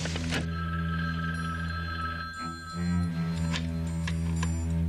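A telephone rings in a 1970s television crime drama, its steady electronic ring tone running throughout at moderate loudness with no talking over it.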